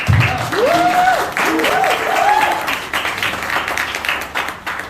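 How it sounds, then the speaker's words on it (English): Applause from a crowd, steady and fairly loud throughout, with a brief voice or tone near the start. "Round of applause."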